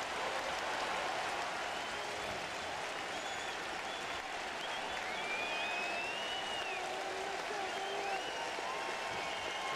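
Crowd at a Blue Jays versus Yankees baseball game applauds a pinch hitter coming out of the dugout, a broad, distant wash of clapping and cheering that holds steady throughout, with faint voices in the mix.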